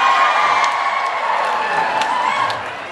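Concert crowd at a tribute festival finals in Pala, California, cheering, whooping and screaming continuously, a loud dense roar of many voices with scattered shrieks, easing slightly toward the end.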